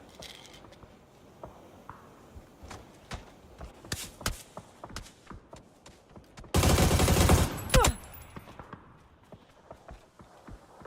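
Gunfire during a team fight in a Thai competitive mobile shooter scrim: scattered sharp shots and clicks across the scene, then a loud dense burst of continuous automatic fire lasting over a second, fading into more sporadic shots.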